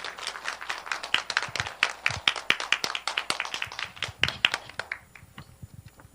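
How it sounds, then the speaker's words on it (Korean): Scattered hand clapping from a church seminar audience welcoming a guest, a few dozen sharp claps at an uneven rhythm that thin out toward the end, fairly close and free of talk. "우리 박수로 환영하시겠습니다."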